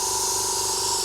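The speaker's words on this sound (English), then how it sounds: "you can spray this down onto a sheet of paper or on your bench" An airbrush fed by a compressor with moisture traps sprays air down onto a sheet of A4 paper, a steady, loud, unbroken hiss that holds for the whole second.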